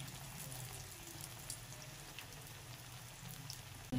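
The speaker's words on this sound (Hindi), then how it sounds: "फुल जब तक ये क्रिस्पी ना हो जाए ना, तब तक आपने इसको फ्राई करते रहना है।" Aloo tikki potato patties frying in hot oil, a steady soft crackling sizzle with scattered pops, fairly faint and continuous.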